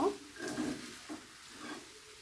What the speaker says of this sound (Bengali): এখন সব সুন্দর করে মিক্স করে নেব।